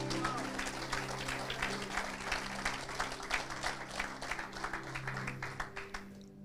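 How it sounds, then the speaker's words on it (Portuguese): A church congregation applauds in a steady patter of many hands, fairly faint and distant, with a sustained musical hum underneath and the clapping fading near the end. "Pode aplaudir ao Senhor."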